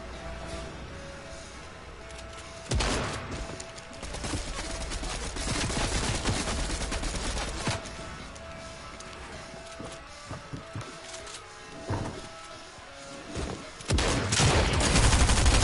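Fortnite gunfire rattles through a long stretch of play, with sharp volleys and machine-gun-like bursts at irregular intervals, some loud and close, others thinner, between quieter game ambience.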